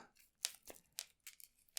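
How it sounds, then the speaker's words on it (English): Cards from a dungeon deck are shuffled in a quiet room: a quick series of crisp, papery riffles and slaps, about six short bursts in under two seconds, close and clear. "Let's go ahead and shuffle it up."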